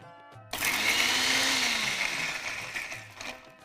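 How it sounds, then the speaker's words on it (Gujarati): A kitchen mixer grinder whirs on for a burst of a few seconds, grinding mint leaves, salt and cumin. The motor starts abruptly, whines loudly, then winds down, with quiet gaps before and after. "હવે આપણે એને વાટી લઈએ."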